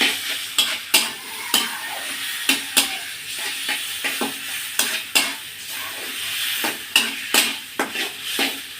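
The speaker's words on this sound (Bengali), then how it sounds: "সুন্দর করে কষিয়ে নেব সেদ্ধ মোটাটা মশলা" Boiled banana flower sautéed with spices in a pan for a mocha chingri dish, with repeated sharp spatula scrapes and knocks in an irregular rhythm over a constant close sizzle.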